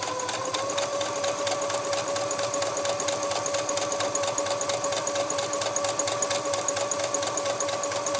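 Domestic sewing machine stitching lining fabric to a bodice, a steady continuous mechanical whir with rapid needle clatter running close and even throughout, no talking.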